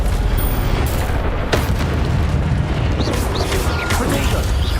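An Expelliarmus spell goes off in Hogwarts Legacy gameplay, heard as a series of loud booming blasts and whooshing bursts over constant rumbling game noise.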